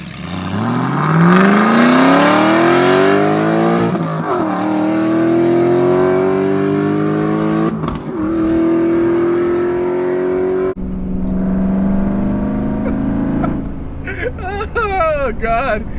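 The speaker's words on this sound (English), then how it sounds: "there's a Fabspeed X-Pipe exhaust on this thing, and if you drop it 2 gears and do that, it sounds ridiculous" An Aston Martin V8 Vantage fitted with a Fabspeed X-Pipe exhaust revs hard after a downshift, its loud rising engine howl climbing and holding in repeated surges, close and dominant, with a person talking over the later part.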